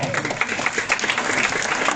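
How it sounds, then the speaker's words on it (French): An audience applauds tournament champions at a volleyball pool draw, a moderate, continuous patter of many hands clapping at once. "nos champions qu'on peut encore applaudir très très fort"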